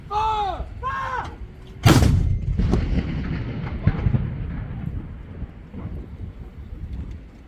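Cannon booms from a 21-gun salute on a rainy Remembrance Day, one sharp loud blast followed by a long rumbling echo over steady wind and rain noise, with short shouted commands just before the shot.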